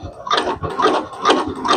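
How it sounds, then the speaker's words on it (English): Sewing machine stitching a jelly roll fabric rug, running forward and then back stitching, with a loud, close, rhythmic mechanical chatter in quick repeated pulses. "I'm gonna stitch forward a little bit, and then I'm gonna go ahead and back stitch"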